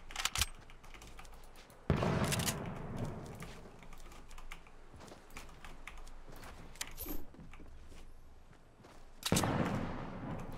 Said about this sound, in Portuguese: Tem mais tiro pra cá